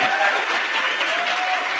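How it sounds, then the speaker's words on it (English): A debate audience applauding and cheering, a dense, loud wash of clapping that runs unbroken throughout. "Or you can all quit cheering for Alex"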